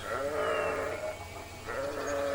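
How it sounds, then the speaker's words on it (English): Sheep bleat in drawn-out, wavering calls beside a narrow-gauge railway track, two or three bleats close by over a low outdoor hum. "the sheep were happily grazing on the grass that grew beside the track"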